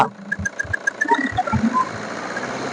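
Diesel engine of a used Toyota Innova for sale being revved, a rough knocking idle with short throttle blips rising and falling, close and fairly loud with no talk.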